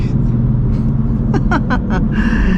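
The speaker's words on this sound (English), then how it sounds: "Guys, check out the traffic." Road traffic heard from inside a car: a steady low engine and road rumble under the cabin, with a vehicle hum growing near the end and brief voice-like sounds in the middle.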